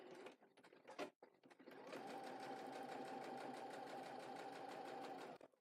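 A sewing machine stitches in reverse, a steady fast mechanical whir running for several seconds after a few brief clicks and hand-wheel movements, close and alone.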